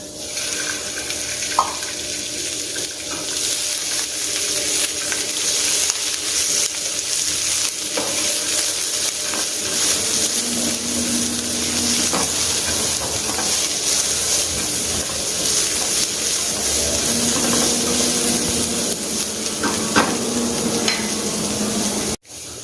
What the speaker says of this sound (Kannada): ಈಗ ಸ್ವಲ್ಪ ಎಣ್ಣೆ ಹಾಕಿ ಅದನ್ನು ಸರಿಯಾಗಿ ಹುರ್ಕೊಳ್ತೇನೆ